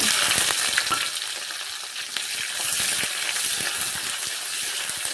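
Chopped onions fry in oil over a tempering of cumin, five-spice, dried chilli and bay leaf, making a loud, dense, continuous sizzle with crackling pops close by. No talk.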